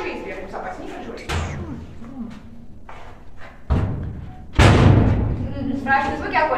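Heavy steel bunker door at Bunker 703 in Moscow, its handle turned and door swung open with loud thuds and a clanking slam amid grinding, echoing metal sounds, with people talking throughout.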